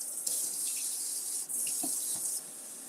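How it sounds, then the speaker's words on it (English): Tap water runs into a kitchen sink to rinse canned black beans, a steady close hiss of the stream that dips and shifts briefly as the beans move under it, with no talking. "So I'm just rinsing them."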